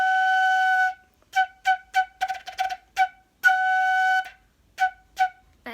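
A flute played with a poor, unclear tone: one held note, then a string of short, choppy, breathy blows that cut in and out, with a second longer note partway through, close and alone.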